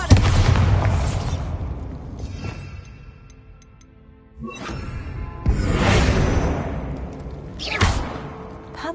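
Bombarda blasting spell detonating in Hogwarts Legacy inside a mine, a series of loud booming explosions with rushing whooshes, heavy bursts near 0, 5.5 and 8 seconds separated by lower rumbling debris.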